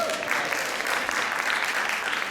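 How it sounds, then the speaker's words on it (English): Theater audience at a Schoolhouse Rock Live! Jr. production applauding themselves, a steady wash of many hands clapping at moderate volume without pause. "give yourselves a round of applause"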